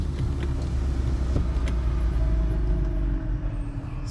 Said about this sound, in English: All you can hear is the tire noise